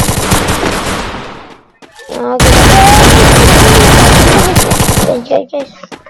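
Video game gunfire: loud, close machine-gun bursts pound out, the first fading after a short pause and the second a long sustained volley that ends in scattered shots.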